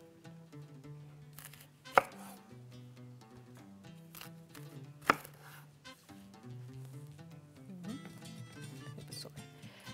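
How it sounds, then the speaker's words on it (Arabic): Clean endive lettuce chopped with a knife on a board: two sharp cuts stand out over a continuous music bed, with quieter cutting between them. "اهو اول حاجه هقطعها الخس النظيف ده"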